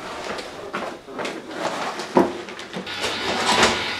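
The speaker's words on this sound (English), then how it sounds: "the noise you can hear now is the boiler going into self-clean mode." A KWB wood pellet boiler in self-clean mode makes a steady, broadband rasping and scraping, with repeated mechanical grinding and a sharp knock partway through.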